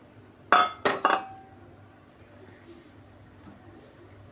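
Dry fruits dropped into payasam in a pan, three quick clinking taps close together near the start, followed by quiet background.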